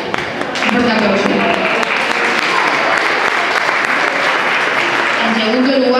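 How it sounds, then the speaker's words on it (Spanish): Sustained applause from an audience at a summer school festival, a dense steady wash of clapping that fills the whole stretch with voices faintly mixed in. "Un fuerte aplauso."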